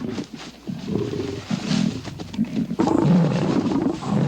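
Male lions fight over a lioness in the African wild, their loud, rough roars and snarls overlapping in bursts, growing heavier and more sustained toward the end.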